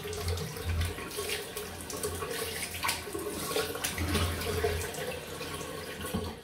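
Cold tap water streams over a double-edge safety razor as it is rinsed, a steady splashing flow from the faucet, close and moderately quiet, with no talking.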